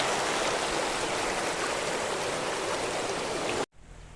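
Irrigation water flowing steadily into a farm field in a Nepali village, a continuous broadband rush like a stream, close and even, cutting off abruptly near the end.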